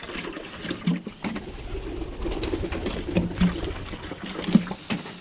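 Birmingham Roller pigeons in a loft, with soft cooing and wing flutters over a faint trickle of water as the birds drink, steady and close with occasional sharper flaps.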